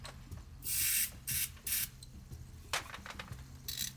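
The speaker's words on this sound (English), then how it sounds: "just a little bit of WD-40 in there" Short bursts of WD-40 lubricant sprayed onto the ratchet and spring assembly of a GM 263 transfer case during a rebuild, three close hissing blasts early on and a fainter one near the end, with light mechanical clicks between them.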